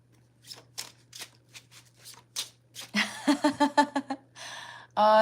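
Gold foil tarot cards are shuffled close by: a few soft taps and slides, then a quick run of crisp riffling bursts and a final long, dense riffle.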